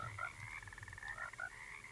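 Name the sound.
frog croaking, from the video game Alone in the Dark (2024)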